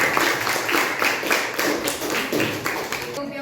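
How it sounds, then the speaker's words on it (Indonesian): Students applauding in a classroom after a classmate reads a biography aloud, a dense patter of close hand claps that runs steadily for a few seconds, then stops abruptly at the end. "Oke, tepuk tangan dulu."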